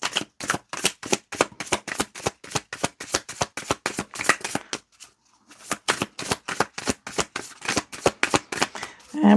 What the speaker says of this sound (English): And 1 more shuffle.